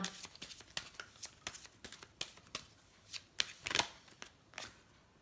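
Oracle cards being shuffled and drawn by hand: a string of crisp, close riffling flicks and slaps in an uneven rhythm, each burst short and sharp, with a louder flurry near the middle, and no voice over them.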